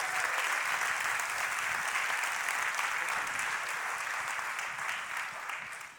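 An audience at a conference panel session gives a big round of dense, steady applause that holds evenly and begins to fade toward the end.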